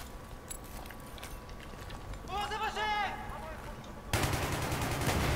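A big gun fires in the shooter game Battlefield 3, loud sustained blasts that kick in near the end after quieter combat noise, with a voice talking partway through.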